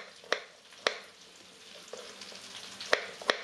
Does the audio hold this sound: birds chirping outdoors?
no